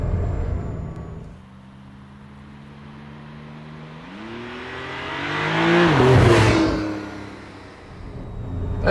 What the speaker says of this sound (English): Double clutching here now in the next roundabout.